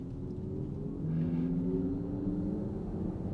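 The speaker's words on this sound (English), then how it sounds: "even from a gentle acceleration, you can just feel this vehicle's ready to go at a moment's notice" A 2024 Porsche Macan Turbo Electric accelerating gently on the road, giving a steady low rumble and whirring drone that swells slightly as it pulls away, heard from inside the cabin with no talk.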